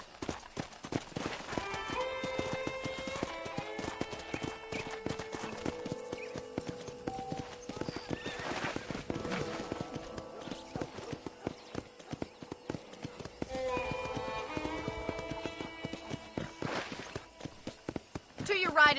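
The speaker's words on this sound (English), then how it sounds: "let's see if you can still ride a horse" Steady hoof clip-clop of a horse walking on a ranch, set against music with a prominent melody and intermittent talk.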